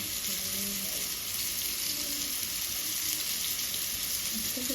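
Fish fries in a pan with a loud, continuous close-up sizzle, dense and unbroken, with faint talk in the background near the end.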